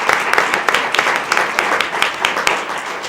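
An audience at a school board meeting gives a steady round of applause, many hands clapping together with a few sharper claps standing out, throughout.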